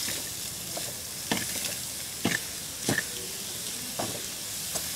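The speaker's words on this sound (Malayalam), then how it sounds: "പിന്നെ ഇതിലോട്ട് നമ്മൾ അരിഞ്ഞ് വെച്ച് സവാള ഇട്ട് കൊടുക്കാം." Chopped onion sizzles in a hot frying pan under a steady hiss, while a utensil stirs and scrapes in short strokes about once a second, close by.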